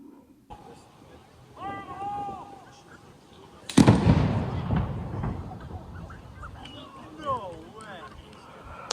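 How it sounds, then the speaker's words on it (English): A single heavy bomb blast erupts as one loud, booming burst partway through, its rumble slowly dying away, with people talking faintly before and after. "You are also going to hear the blast."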